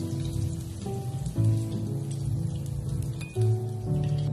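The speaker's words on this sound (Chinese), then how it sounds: "锅留底油，加入一点葱蒜，然后翻炒均匀，把葱蒜炒出香味" Scallions and garlic stir-frying in a little leftover oil in a wok after pan-fried tofu, giving a steady, close crackling sizzle with soft tonal music running underneath.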